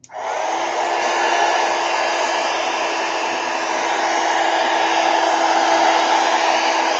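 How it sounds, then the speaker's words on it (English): A heat gun blows hot air in a steady, loud, close whoosh that holds evenly from switch-on for about seven seconds, at a mixed-media craft table. "All right, heat gun."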